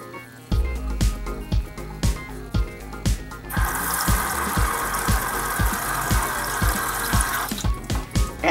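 A bathroom tap runs steadily to wet a dirty makeup brush before brush shampoo is applied, with a continuous close water hiss over a rhythmic background beat.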